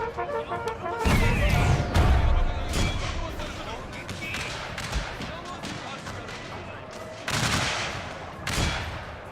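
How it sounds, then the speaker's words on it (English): Artillery cannon fire and musket volleys in a Civil War battle video game at Ball's Bluff crash out as repeated loud booms and crackling gunfire, with someone talking over the battle. "Artillery, what were you doing? Fire!"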